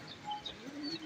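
Racing pigeons flying outdoors in the rain, giving faint, soft coos and brief chirps over a steady background hiss.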